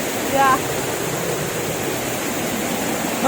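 Rushing water of a waterfall stream at a bathing spot in Kannur, a loud continuous broadband roar with no break, close by, with brief faint voices or chirps barely surfacing over it.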